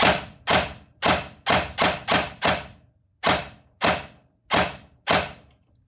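A PP19 Arcturus airsoft AEG fires on semi-automatic, eleven loud, sharp close-up shots in an uneven rhythm, some in quick pairs and others spaced apart, with no talking.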